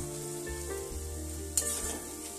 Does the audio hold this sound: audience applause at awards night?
no